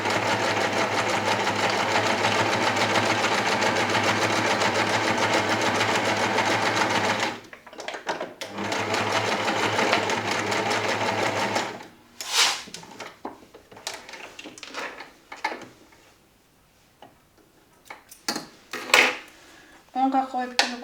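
A sewing machine runs steadily for about seven seconds while stitching a concealed zipper, then stops briefly and resumes, followed by quieter clicks, rustling and handling noises as the work is adjusted.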